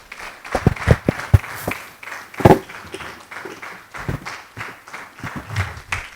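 A seated audience at a medical association event gives sparse, uneven applause after a speech, individual claps standing out close by amid a thinner patter, with a few louder knocks.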